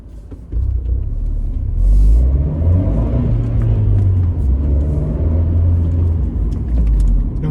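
A Fiat 124 Spider Abarth with a six-speed manual and an aftermarket 2.75-inch (70 mm) exhaust from the downpipe back, heard from inside while driving. It gives a steady, loud, deep rumble that swells gently as it accelerates.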